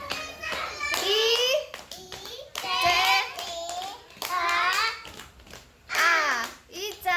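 Children join a name-spelling clapping game in a classroom, their sung and spoken letters alternating with bursts of hand claps, an adult voice leading nearby.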